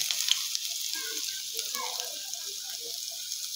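Ginger paste hitting hot oil with tempering spices for a Bengali vegetable dish, a bright hissing sizzle, steady and close, with a few light scrapes of stirring.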